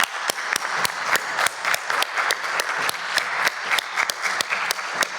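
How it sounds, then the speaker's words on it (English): A room of people at a youth forum claps for the youth advocates, sharp distinct claps layered over a steady bed of applause, moderately loud and sustained throughout. "give a massive round of applause to the youth advocates"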